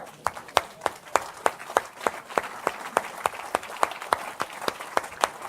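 A church congregation at a French-language sermon claps in steady rhythm, about four crisp claps per second, moderately close, with a faint murmur of voices beneath.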